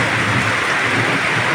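Rain falls steadily after a hot spell, a dense, even hiss of drops close by, with no voices.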